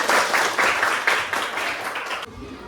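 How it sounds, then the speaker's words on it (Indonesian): Students applauding in a classroom, a burst of many hands clapping in brisk pulses for about two seconds before it stops abruptly and leaves quiet room tone. "Boleh tepuk tangan untuk Kartika."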